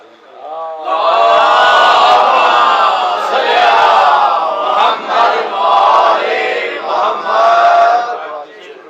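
A large congregation in a mosque in Rawalpindi recites durood together during a Muharram gathering, a loud sustained chorus of many voices chanting in unison with rising and falling waves, close and reverberant.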